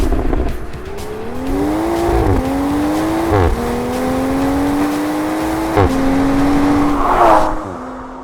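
A 2021 Toyota A90 Supra drives steadily with a prominent engine note, rising through gears in several clear upshift steps, loud and close with no talking.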